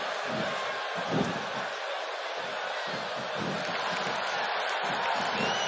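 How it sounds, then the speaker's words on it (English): Roaring arena crowd noise in the WWE 2K18 wrestling video game, a continuous loud wash of cheering and whoops with pulsing swells, heard alongside intermittent commentary-like voice. "This crowd is absolutely electric right now, and I can't blame them."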